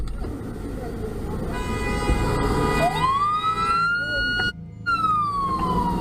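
A police car siren wails during a high-speed chase, loud and close, its rising and falling tone sweeping over engine rumble and a voice talking.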